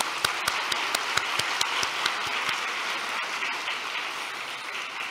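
Audience applause in a church hall, a run of sharp individual claps at first that blends into a steady wash of clapping from many people, moderately loud and continuous.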